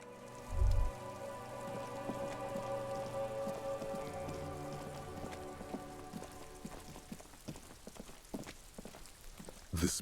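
Steady rain falling in the Disco Elysium video game, a soft continuous wash of patter with scattered drops, fairly quiet throughout and with a thud near the start.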